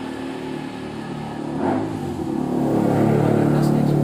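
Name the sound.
motorbikes passing by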